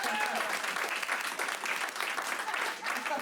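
An audience applauds after a magic trick, a dense burst of clapping from a crowd that holds steady throughout, close and lively.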